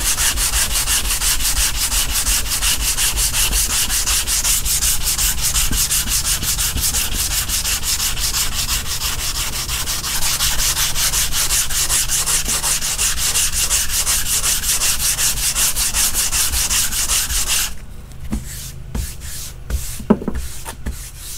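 Primer guide coat is sanded by hand on a car body panel of a box Chevy Caprice LS Brougham: a loud, continuous rhythmic rasping for about seventeen seconds, then it stops, leaving a few light taps and scrapes.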